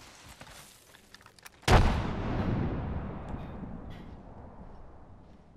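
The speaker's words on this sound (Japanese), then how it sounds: "グレネードを投げた。" A grenade explosion in the video game Apex Legends, one loud sudden blast after quiet background noise, then a long rumbling decay that slowly fades out.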